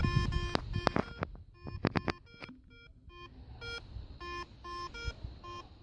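A Garrett Ace 250 metal detector set to all-metal mode beeps as its coil sweeps over a pair of pliers on the floor, giving a series of clear electronic tones in irregular short bursts, some close together and some spaced apart.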